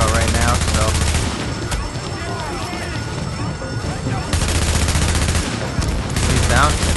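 Rapid automatic gunfire from a weapon in The Division's Quarantine Center fight, with loud bursts at the start and end and lighter shooting and game noise in between.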